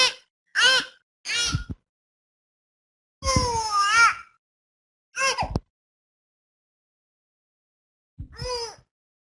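An infant squawks and squeals in short, sharp bursts, a handful of loud cries separated by silent pauses, close by.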